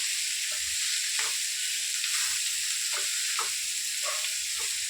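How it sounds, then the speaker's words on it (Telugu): Ridge gourd pieces cooking in oil in a pan give a steady, close sizzle, with soft scraping from a spoon stirring them at intervals throughout. "పొట్లకాయ వేసుకొని మంచిగా ఇట్లా కడిపేసుకోండి పిండికి పైకి కొంచెం ఆయిల్లోనే మగ్గనిద్దాము"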